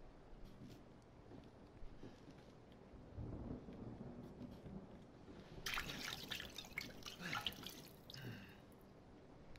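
Water poured and dripping in a dark horror game, Resident Evil 7, heard as a quiet, broadband splashing burst midway through that trails off into scattered drips over low rumbling ambience.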